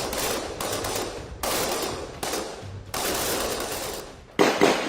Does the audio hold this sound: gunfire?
yes